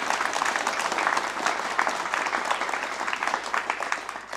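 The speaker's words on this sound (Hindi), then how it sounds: "तो इनका भी आप जोरदार तालियों से स्वागत कीजिए" An audience at a panel discussion on higher education claps to welcome a school director onto the panel, a loud, sustained burst of many hands clapping that holds steady for several seconds.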